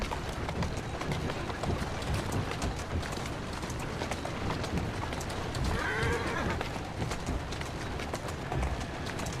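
Horse hooves clatter steadily in a continuous running rhythm in Assassin's Creed Syndicate, with a brief whinny rising midway over rumbling background noise.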